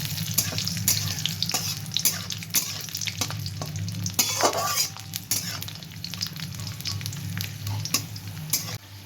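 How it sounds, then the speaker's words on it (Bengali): Peanuts and raisins frying in a pan with curry leaves: continuous close sizzle with repeated scraping stirs of a spatula and a low steady hum underneath. "এবার এগুলোকে একটু ভাজবো।"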